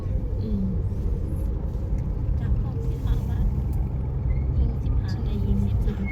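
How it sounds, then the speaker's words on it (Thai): Dense festival traffic jam, a steady low rumble of idling and slowly crawling cars close by, continuous throughout with a voice talking over it. "รถติดครับพี่น้องไหลน้ำกลนกันไปครับ รถติดครับ"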